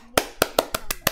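Six sharp claps ring out at an even pace, close and crisp, from a single pair of hands, during Paladins gameplay.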